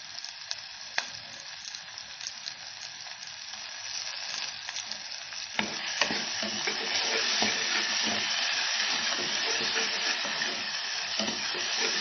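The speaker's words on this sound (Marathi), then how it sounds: "मसाला आलं लसूण पेस्ट हे छान परतून घ्यायचं आहे अगदी तेल सुटेपर्यंत" Ginger-garlic paste masala frying in oil for a spicy Kolhapuri matki rassa, a steady close sizzle that grows louder midway, with occasional stirring scrapes and no talk.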